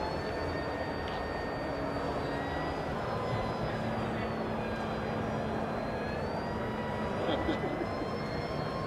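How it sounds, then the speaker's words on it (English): A steady engine drone from a model mothership aircraft approaching to land, with faint shifting whines above a broad rumble, under continuous talk from a man in the foreground. "You can see the mothership coming in to land."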